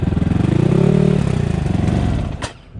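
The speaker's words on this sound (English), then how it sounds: "Engine's nice and quiet." A 2023 SSR SR250 Chinese dirt bike fitted with a Lectron carburetor idles close by with a loud, even putter, then dips at the end with a short sharp click.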